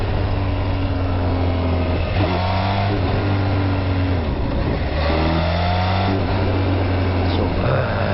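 A supercharged Kawasaki H2SX motorcycle engine under way, with rising and falling pitch as the rider accelerates and backs off the throttle, over steady wind and road noise.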